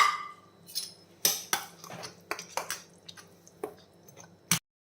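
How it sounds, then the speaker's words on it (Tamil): A spoon stirs ragi flour batter with water in a bowl, giving soft wet squishing strokes and a few light clinks against the bowl, quiet and close. "இதை வந்து நாம் இதில் விட்டு நல்லா மிக்ஸ் பண்ணிடலாம்"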